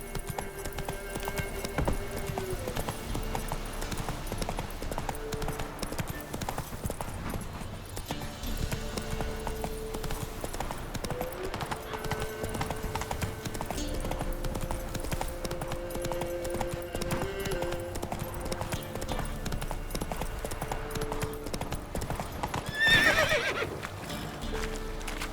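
Roach the horse galloping in The Witcher 3, with steady rhythmic hoofbeats and an occasional whinny over game ambience and music throughout.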